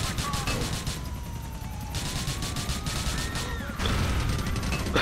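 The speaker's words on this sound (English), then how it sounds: "All the explosions." Explosions and crashing debris in Grand Theft Auto IV online free roam, with a helicopter and cars involved, forming a dense, continuous roar of blasts and metallic clatter under a voice talking throughout.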